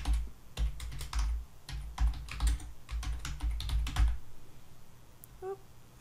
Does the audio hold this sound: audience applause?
no